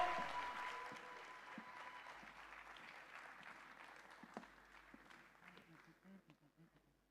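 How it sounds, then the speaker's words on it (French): An audience applauds a performer from Gabon being welcomed on stage in Brazzaville, a full burst of clapping that is loudest at the start, then thins and fades to a few scattered claps. "Mesdames et messieurs, Bréjean du Gabon, sous vos applaudissements!"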